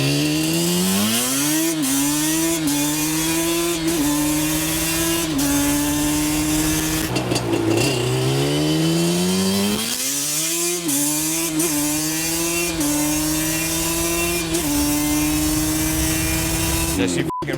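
A 2004 Yamaha Banshee ATV with a Toomey exhaust and twin carburetors runs close by, its two-stroke engine buzzing loudly and revving up and down repeatedly, dipping and swelling in pitch with sharp throttle blips throughout.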